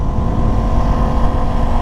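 Aprilia RS660 motorcycle engine running on a street, a steady, loud, close rumble with no throttle peaks and no voices.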